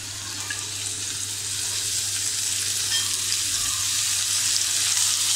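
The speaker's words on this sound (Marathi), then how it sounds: "आपण थोडी डाळ अशी परतून घेऊया." Chana dal frying with hing in a pan over a medium gas flame for a ridge gourd curry, a steady close sizzle with faint stirring, no voices.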